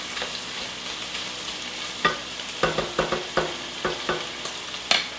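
Pork and butter frying in a pot for kimchi jjigae, with a steady low sizzle broken by sharp, irregular scraping knocks as the spoon stirs; close and alone, with no voices.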